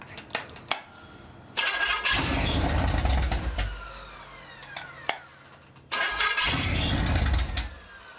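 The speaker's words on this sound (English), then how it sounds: "I think we have a carburetor problem, because it wants to run, doesn't it?" A rebuilt Pontiac 400 V8 with a suspected carburetor problem cranks twice, each time catching in a loud rough burst that dies after a few seconds, with clicks and quiet gaps between attempts.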